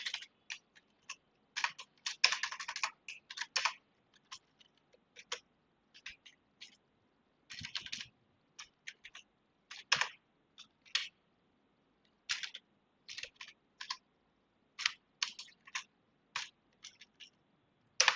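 Code being typed on a computer keyboard, with crisp close key clicks that run in fast flurries and short runs, broken by brief pauses, in a quiet room with no talking.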